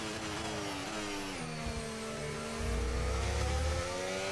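Racing car engines in F1 25 career mode with McLaren, a continuous whine of revving engines shifting pitch through gear changes, with a louder low rumble swelling in toward the end.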